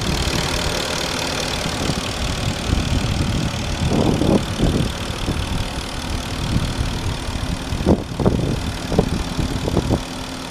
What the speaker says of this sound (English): The clicking noise you hear is actually the fuel injectors.